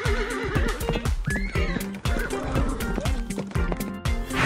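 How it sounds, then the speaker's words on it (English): A horse whinnies with a rising, shaky neigh over a bouncy children's song, with steady beat and backing instruments throughout. "horse."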